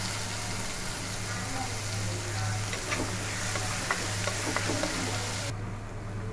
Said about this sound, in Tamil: அப்போ தான் வந்து வெங்காயம் வந்து சீக்கிரமாக வதங்கி வரும்